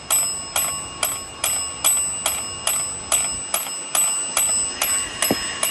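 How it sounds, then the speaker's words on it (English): A bell strikes over and over in a steady, even rhythm, each ring bright and metallic, about two per second, with no voices. "It's just a bell."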